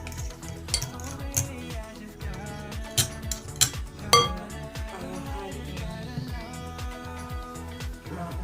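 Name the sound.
stirring eggs with a fork in a bowl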